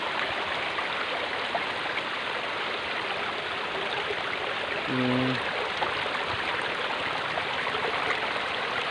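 A small stream flows steadily with a continuous, even, hissing babble of water, heard up close. A faint, brief tonal sound rises once midway through.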